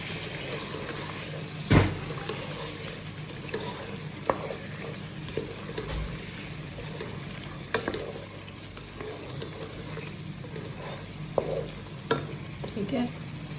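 Meat masala mixed in a pan, with a soft sizzle beneath intermittent scraping and stirring strokes, a few sharper clatters, heard up close.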